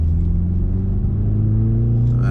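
BMW 330i G20 engine pulling in third gear, a loud, close, steady low rumble with a slowly rising tone, heard from inside the car for a couple of seconds.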